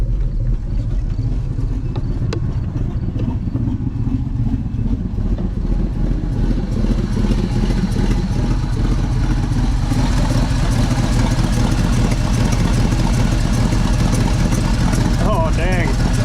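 Old 1964 Chevy grain truck engine idling low and rough on a farm, a steady mid-pitched rumble running throughout with voices talking over it.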